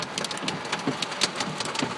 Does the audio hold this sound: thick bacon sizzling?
no